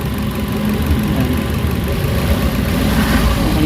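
A repaired Suzuki Carry engine, earlier suffering knocking and low power, idles steadily at close range with a smooth, even mid-pitched rumble and no talking over it.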